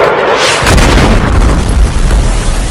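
A loud, close missile explosion bursts out abruptly and rolls into a sustained, heavy rumble with crackling debris noise.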